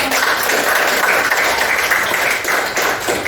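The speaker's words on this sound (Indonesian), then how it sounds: "tepuk tangan dulu untuk" Students in a classroom applaud a group after its discussion presentation, a loud, steady wash of many hands clapping together close by, sustained throughout with little talk over it.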